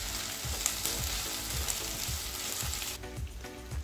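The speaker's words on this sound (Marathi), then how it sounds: "आता आपण याच्यात शिमला मिरची थोडी तळून घेऊ 1-2 मिनिटं" Capsicum frying in a pan with onion and ginger garlic paste for a spicy soyabean chilli, a steady close sizzle with soft stirring scrapes throughout.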